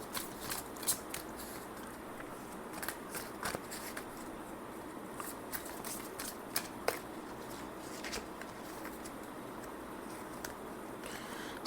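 Cosmic Insights oracle cards being shuffled and drawn, a soft continuous papery rustle with small crisp snaps, quiet and close, with no talking.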